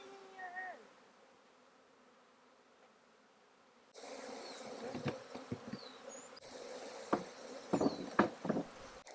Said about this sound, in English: that swarm that was in the grass over there had gone back to the hive it was from